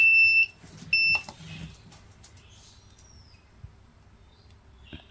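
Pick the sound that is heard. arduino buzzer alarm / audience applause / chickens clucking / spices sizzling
arduino buzzer alarm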